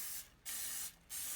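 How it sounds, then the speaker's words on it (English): Two short hissing bursts of butter spray from an aerosol can, lightly coating mini loaf pans, each about a third of a second long and close, with a brief pause between them. "I'm going to start off by using some butter spray in these pans"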